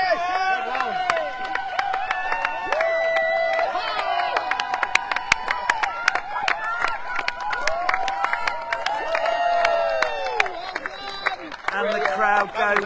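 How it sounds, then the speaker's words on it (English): A crowd cheers and shouts excitedly at the finish of a one-design race, with many voices and whoops layered over scattered clapping, and a commentator talking throughout. "And the crowd go wild."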